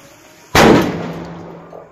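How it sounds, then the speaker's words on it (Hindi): Two small bullet-type firecrackers tied together go off in one sharp, loud blast that decays over about a second and a half, with nothing else around it. "देखने में छोटा लग रहा है लेकिन बहुत बड़ा धमाका किया"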